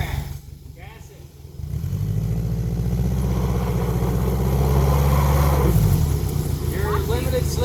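A car with a CVT transmission held at high, steady revs as one wheel spins with a limited-slip differential that isn't working, the loud engine drone rising after a short pause while voices talk over it.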